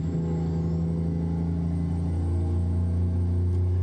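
Kenworth W900 truck in American Truck Simulator, its engine holding a loud, steady low rumble while downshifting with the Jake brake engaged, close and continuous with no talking.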